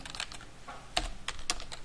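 Short bursts of computer keyboard typing while entering a Linux command, a handful of crisp close key clicks in an uneven rhythm with no voices.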